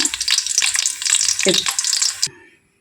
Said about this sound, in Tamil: பெருங்காயத்தூள் கொஞ்சம் போட்டாச்சு நல்லா பொரியட்டும்